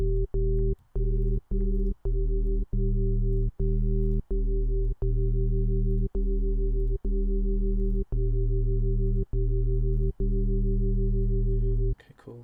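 A loud, buzzy wavetable synth bass with unison sustains as one thick low drone, chopped by brief silent gaps at an uneven rhythm, then cuts off just before the end.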